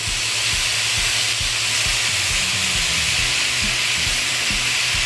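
Wine poured over lamb skewers on a grill hisses and sizzles loudly and steadily, a continuous close steam-and-frying roar with no talking.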